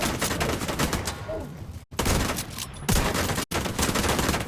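Continuous heavy gunfire in The Division 2, a dense rattling fusillade of overlapping shots and impacts that runs almost throughout, broken only by two brief dropouts of silence.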